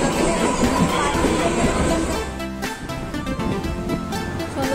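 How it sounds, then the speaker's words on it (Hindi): A train pulls into a station platform, a loud rolling rumble with rail clatter that eases near the end, under crowd babble and voices. "हमारी ट्रेन आ गई।"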